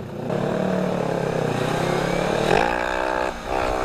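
A motorcycle revs hard while its rider pulls a wheelie on the road, a loud, sustained engine note rising in pitch, dropping briefly and climbing again, heard close and without talk.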